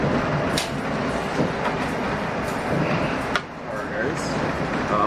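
Inside a moving Amtrak train, a continuous rumbling roar fills the carriage, with occasional sharp clicks and rattles from the cars and faint voices in the background.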